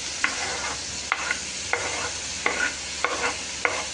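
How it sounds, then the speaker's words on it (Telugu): Tomatoes stir in hot oil with dried fish in a pan, a steady sizzle broken by about seven sharp scraping strokes of the spoon at a regular pace. "ఓకే ఫ్రెండ్స్, ఇప్పుడు టమాటాలు యాడ్ చేసుకోవాలి."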